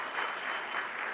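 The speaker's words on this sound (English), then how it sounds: "Could I get a round of applause for that?" Brief burst of audience applause at an interview event, a dense even wash of clapping from a roomful of people, alone without speech.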